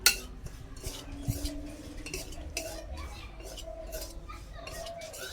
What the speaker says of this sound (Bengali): একটু নেড়ে চেড়ে হালকা করে সুজিটা ভেজে নেব।